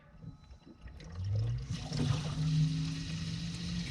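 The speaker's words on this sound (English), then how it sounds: "You can watch the water flow." Water starts to flow through a home jacuzzi's plumbing once the pump is switched on. A close, rising gurgling rush builds and holds steady, with a bubbly rumble from air still in the lines.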